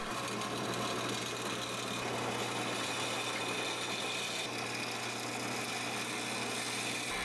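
A lathe turns a chucked length of fruit-tree wood being cleaned and smoothed, a steady mechanical hum with a constant whine and faint scraping that continues unchanged throughout.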